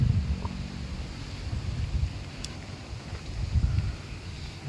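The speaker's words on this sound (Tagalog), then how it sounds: "Lakas ng hangin." Strong wind buffets a rainy campsite, a steady low rumble of gusts and microphone buffeting swelling and easing throughout, with no voices.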